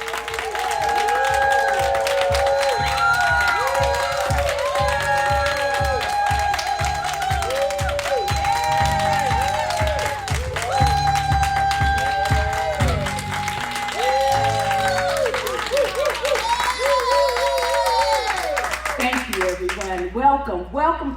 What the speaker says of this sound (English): I would like everyone to make some noise and give a round of applause for your host